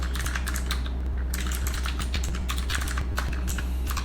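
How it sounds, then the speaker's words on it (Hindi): Code being typed on a computer keyboard, a quick continuous patter of key clicks with short pauses between bursts over a low steady hum, with no voices. "तो मैं यहाँ पे लिखता हूँ console.log"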